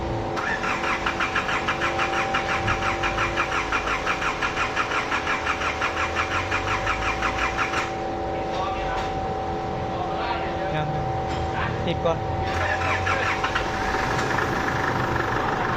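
An Isuzu D-Max diesel engine that smokes black and burns fuel cranks and catches, then settles into a steady, close, rumbling idle for the rest of the clip while a voice talks quietly over it.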